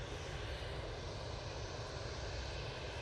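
An EasyJet airliner lined up on the runway at Manchester Airport, its engines a dense, even rumbling roar heavy in the low end, steady and distant throughout.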